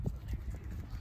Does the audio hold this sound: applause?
no